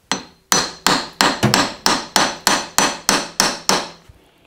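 About a dozen sharp, ringing hammer blows strike metal in a steady rhythm at close range while a brake caliper is fitted on a Volvo 945, then they stop.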